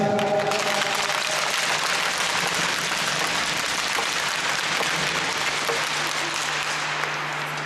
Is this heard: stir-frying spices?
no